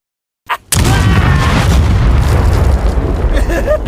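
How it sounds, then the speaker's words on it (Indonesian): A bomb blast from the animated series Agent Elvis: a sharp pop, then a loud, sustained roaring boom with rumbling debris that fills the whole clip. "Jatuhlah bom tersebut tepat berada di dekat anak ceweknya."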